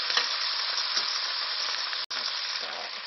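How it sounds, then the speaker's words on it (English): Steady, loud sizzling of very hot oil searing chicken fills the clip, a dense crackling hiss with a brief cut near the end. "This is the sound of our oil searing our chicken."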